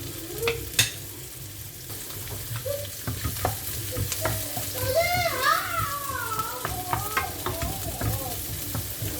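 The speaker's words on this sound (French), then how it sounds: "On laisse bien cuire l'oignon." Onion and thawed frozen chopped garlic fry in a pan with a moderate, continuous sizzle and occasional stirring scrapes, while a person talks over the cooking.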